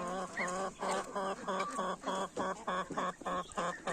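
A hen clucks on a poultry yard, a close, loud series of rhythmic clucks in quick bursts that continue steadily throughout.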